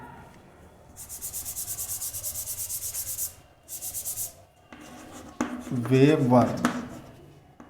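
Chalk scrapes across a classroom blackboard in a physics lesson on magnetic flux, making quick rhythmic tapping strokes in two bursts, followed by a teacher talking.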